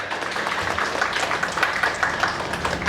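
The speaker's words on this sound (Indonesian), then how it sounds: "Tepuk tangan untuk adik-adik sekalian." A seated audience at a Banggai regency education event gives the children a round of applause, a soft, dense patter of many hands continuing steadily at moderate distance.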